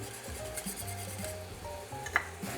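A whisk scrapes the browned fond from a pan of Indonesian rendang-style braised beef during deglazing, with steady soft scraping and sizzle at close range and a brief sharp clink near the end.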